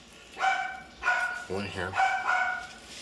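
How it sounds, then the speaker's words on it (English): Dogs bark in the background in several spaced, moderately loud bursts, with a voice speaking briefly in between, during handgun cleaning indoors. "Okay, you got dogs barking"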